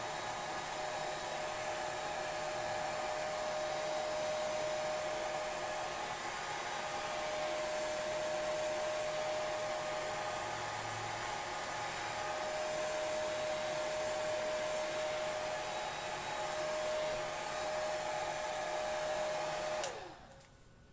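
A hair dryer blows steadily with a constant whining hum and rushing air, loud and unbroken, before switching off at the very end.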